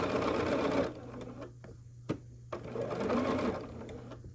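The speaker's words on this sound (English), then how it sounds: "And then we're gonna sew this with the 1/4 inch seam allowance." A sewing machine stitches fabric quilt squares along a quarter-inch seam, running steadily in two close, continuous bursts separated by a brief pause with a small click.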